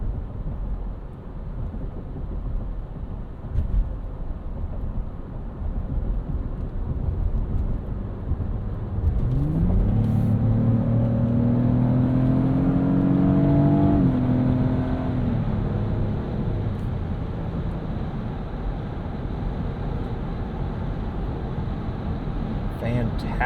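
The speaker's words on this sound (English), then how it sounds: "Fantastic torque, acceleration there, pulling on to the highway easily up to 70 miles an hour." A 2024 Lexus GX 550 Premium SUV accelerates in sport mode up a night-time entrance ramp onto the highway, its engine note rising in a smooth climbing pull over steady road and wind rumble inside the cabin.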